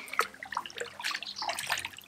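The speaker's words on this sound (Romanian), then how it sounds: "Hai, Felix, să vedem cum intri tu în apă" A child steps into a swimming pool, with light splashing and sloshing of water close by in a series of small irregular bursts, quiet and without speech.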